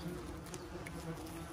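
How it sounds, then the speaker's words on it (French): Wasps swarming at a nest in a hedge make a steady, dense buzz that stays close and fairly loud from start to finish, with no voices. "Pour entendre le bourdonnement, c'est assez impressionnant."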